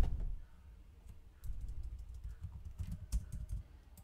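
Typing on a computer keyboard while configuring a router for networking practice, with steady close clicking keystrokes in irregular bursts and a few sharper key presses, heard alone without speech.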